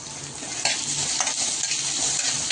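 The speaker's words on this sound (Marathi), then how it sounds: "टोमॅटोला चांगलं फ्राय करून घ्यायचं" Tomatoes frying with browned onions in a pan, a steady close sizzle with scraping stirring strokes throughout, no voices.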